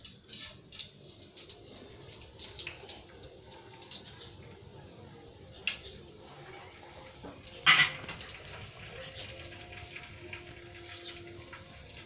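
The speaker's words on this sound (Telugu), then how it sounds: "చూడండి, తిరగమాత వేస్తున్నాను." Spices and red chillies crackle as they are tempered in hot oil for an Andhra-style colocasia and toor dal pulusu: a steady bright sizzling hiss, with occasional sharper pops and one loud crackling burst partway through.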